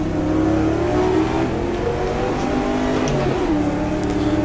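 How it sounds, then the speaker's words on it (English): A 1966 Ferrari race car engine in the GTR2 racing game, a continuous droning roar with shifting revs that dips slightly mid-way, loud and unbroken with no talking. "Ferrari behind me making heck of a noise."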